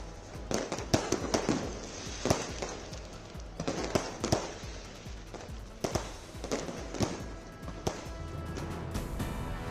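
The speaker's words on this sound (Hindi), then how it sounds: "जमकर आतिशबाजी।" Fireworks at the Golden Temple during a festival crackle and pop in irregular bursts, sharp bangs scattered over a steady crowd-like background, fairly distant.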